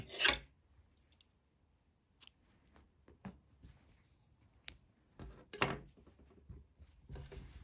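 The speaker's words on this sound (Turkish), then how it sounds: "İpliği kesiyorum." Scissors snip knitting yarn in a quiet room, one sharp close cut at the start and a couple more later, with soft handling clicks and rustles between them.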